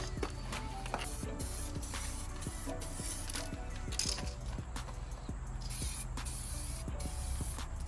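Aerosol spray paint hisses in long, continuous bursts while a car is painted, with faint clicks and small knocks from handling in a workshop and no clear speech.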